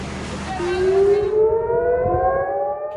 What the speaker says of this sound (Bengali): এ সময়ে সাইরেনের শব্দে কেঁপে ওঠে ইসরায়েলের মধ্যাঞ্চল ও জেরুজালেম